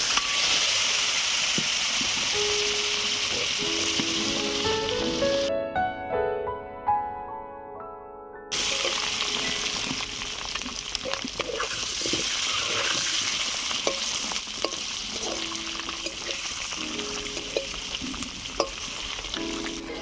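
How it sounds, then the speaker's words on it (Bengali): Duck eggs fry in oil seasoned with turmeric and salt, giving a loud, steady sizzle and crackle with stirring clatter, broken by a short quieter stretch before the frying noise returns at full strength. "এবারে ডিমগুলো ভেজে নেব।"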